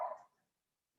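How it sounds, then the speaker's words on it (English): One short dog bark in an indoor setting, quiet and brief, fading quickly into silence. "Sorry about the dog barking."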